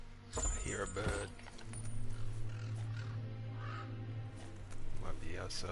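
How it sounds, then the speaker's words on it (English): A bird calling with crow-like caws in the Biomutant action role-playing game, heard under ambient game sounds and background music while a person speaks. "I hear a bird."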